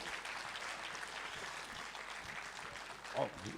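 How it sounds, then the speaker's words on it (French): An audience at an evening music gathering claps steadily in a faint, distant-sounding round of applause welcoming a performer, continuous throughout with a brief louder moment near the end. "Avec Patrick, que nous pouvons donc effectivement accueillir et applaudir."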